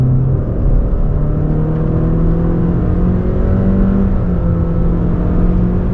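A 2024 Honda Accord accelerates hard from inside the cabin, its engine droning loudly and winding up steadily, with a slight shift in pitch partway through as if changing gears.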